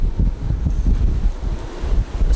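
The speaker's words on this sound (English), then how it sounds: "So windy." Strong gusty wind buffets the microphone in a constant low roar with fluctuating bursts and no voices.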